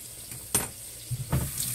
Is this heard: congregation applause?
no